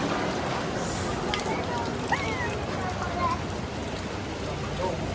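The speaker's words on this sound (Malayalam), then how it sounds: "നല്ല മഴയാണ് നല്ല മഴ" Heavy rain in Palakkad pours in a constant, dense hiss, with faint voices and a few chirps barely audible beneath it.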